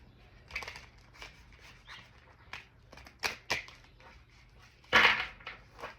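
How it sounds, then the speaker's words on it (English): Quiet tarot card shuffling up close: scattered papery flicks and taps, irregular, with one louder riffle near the end. "let's shuffle like we know how"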